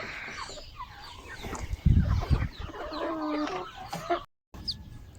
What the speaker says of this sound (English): It's the time they're changing their voice from being chicks to layers.